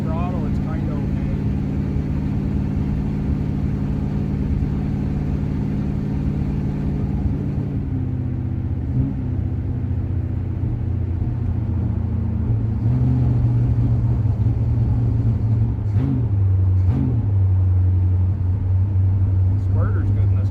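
Big-block 425 V8 in a 1966 Oldsmobile 88 with a vacuum secondary carburetor: a loud, steady engine rumble close by, with throttle raising the pitch in steps partway through, and someone talking over it.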